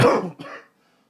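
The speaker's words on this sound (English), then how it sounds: "a damn cough" A single harsh cough, loud and close, followed by a shorter second hack that quickly trails off into silence.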